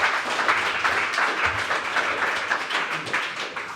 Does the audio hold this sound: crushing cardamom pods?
no